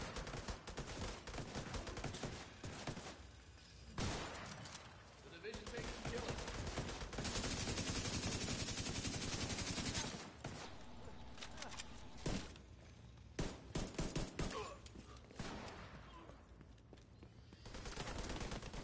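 Sustained gunfire in a shooting video game rattles in long, dense volleys and scattered bursts, with faint voices at times, the whole mix sitting quietly in the background.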